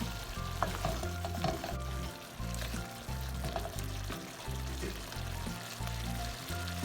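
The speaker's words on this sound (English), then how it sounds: "Lastly, I'm adding half cup of water." Half a cup of water poured into a simmering beef meatball curry (koftay), giving a steady close sizzle and bubbling with a low rhythmic rumble underneath, no talking.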